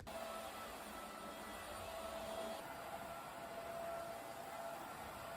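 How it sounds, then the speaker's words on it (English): A Bissell Pet Vac vacuum cleaner runs nonstop while a room is vacuumed, giving a loud, steady whirring drone with a faint high whine throughout and no talking. "I'm gonna go ahead and vacuum up this entire room."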